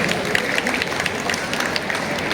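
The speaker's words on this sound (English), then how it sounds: "Students, please motivate your seniors by giving them a huge round of applause." Students clapping for their seniors at an Independence Day event, a steady wash of applause from a crowd with a little voice activity mixed in.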